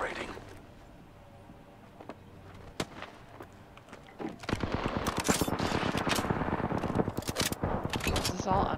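Gunfire in a squad-based battle royale video game as the ring closes: quieter scattered shots give way to sustained, rapid, loud automatic fire with many overlapping bursts, while voices talk underneath.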